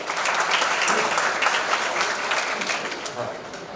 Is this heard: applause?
yes